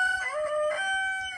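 A young cockerel crows near and loud on a farm, one drawn-out crow with bright harmonic tones that rises and then holds steady, with no talk over it.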